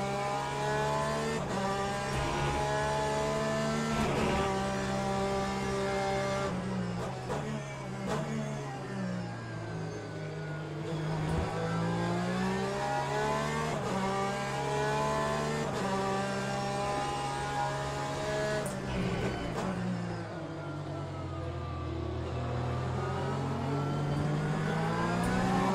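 An LMP2 race car in the Le Mans Ultimate racing game screams through repeated upshifts and downshifts, the loud engine note rising and falling continuously as it laps with other cars on track.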